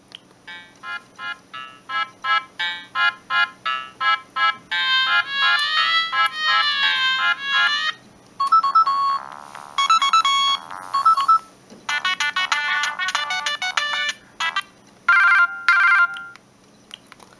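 A Siemens C65 mobile phone plays a polyphonic ringtone, a bright synthetic melody of quick beeping notes and chords that runs loud and close through several phrases, with short pauses between sections.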